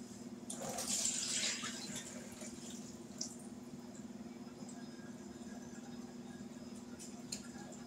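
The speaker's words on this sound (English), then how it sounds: "let me pour the water off of these potatoes" Water being poured off cooked potatoes into a sink, a brief gushing splash at the start that settles into a low, steady background hum, faint and close.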